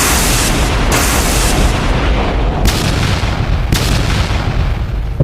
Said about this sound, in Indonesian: Setiap benturan menciptakan ledakan kecil.